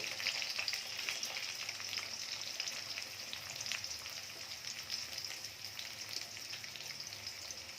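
Garlic frying in hot oil gives a soft, even crackling sizzle that runs steadily throughout, close but quiet, with no voices.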